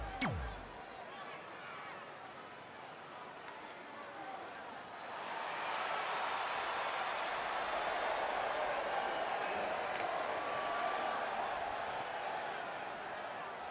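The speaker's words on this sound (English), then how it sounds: "Listen to this crowd, guys." A large wrestling crowd at a TNA Impact match roars from a distance, the noise swelling after a few seconds into sustained cheering and shouting.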